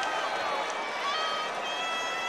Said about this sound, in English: He gets a round of applause from the UP faithful.